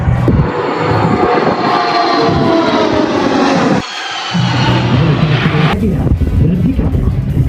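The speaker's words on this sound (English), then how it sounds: "great time for a photo opportunity as the aircraft comes from left to right" An aircraft flies past from left to right at the Avalon airshow in Australia, a loud sustained engine roar close by that briefly dips midway before surging back with a rising whine.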